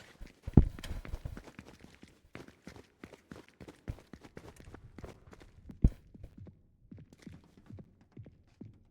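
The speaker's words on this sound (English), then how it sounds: "I hear footsteps." Footsteps in the Fortnite video game, a run of soft, irregular taps and thuds with a few sharper hits, heard close and alone without talk.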